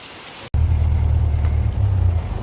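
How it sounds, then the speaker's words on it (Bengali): Heavy rain pours steadily in a dense, loud wash with a strong low rumble, close by, after a brief silent gap at the start; no voices. "দেখো কিরকম বৃষ্টিটা হচ্ছে পুরো ঝমঝম করে বৃষ্টি হয়ে যাচ্ছে"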